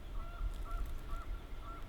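Geese honking at a pond, a few short repeated nasal calls spaced evenly, fairly distant and faint over low background rumble.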